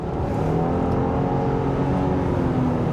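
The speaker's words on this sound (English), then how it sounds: "let's drop it and accelerate" Engine and road noise swell from a 2023 Subaru Outback Touring XT accelerating in manual mode with simulated CVT gears, a steady loud drone heard from inside the cabin with no talking.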